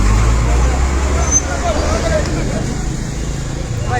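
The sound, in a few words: vehicles slowly passing on road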